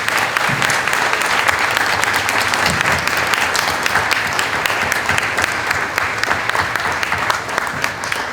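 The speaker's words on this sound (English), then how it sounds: "But let's just give them a round of applause." A crowd at a panel discussion on rebuilding trust applauds the speakers with dense, steady clapping that stays loud and close throughout, with no voices breaking through.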